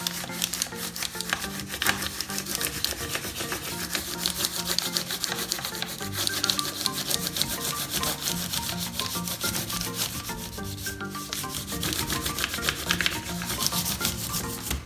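A regular wax crayon, wrapper removed, is rubbed back and forth across paper laid over a leaf, giving a steady scratchy friction texture that runs continuously for the whole stretch, close and fairly even in level.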